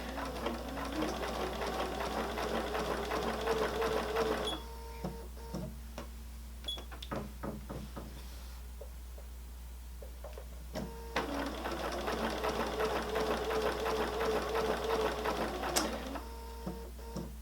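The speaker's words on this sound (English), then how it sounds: "I can go ahead and start sewing along that curve" A sewing machine stitches fabric along a curve in two steady runs of rapid mechanical whirring, separated by a pause filled with clicks and handling of the material, close and moderately loud.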